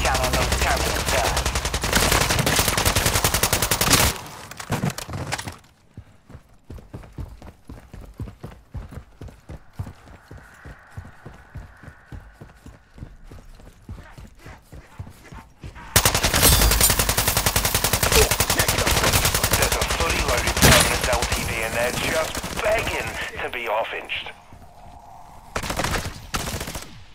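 Sentry gun in Call of Duty Modern Warfare III Zombies fires loud rapid bursts in two long stretches, with a quieter rattling lull between them and clattering, heavy game action around it.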